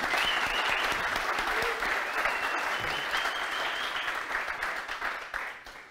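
A conference audience at a tech security talk applauds steadily for about six seconds, with some cheering in the crowd, and the clapping fades slightly toward the end.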